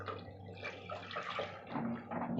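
Water is poured into a pot of cooking dal in a home kitchen, a soft, faint splashing trickle lasting a couple of seconds with no talk over it.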